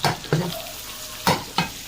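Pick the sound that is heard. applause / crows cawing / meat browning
meat browning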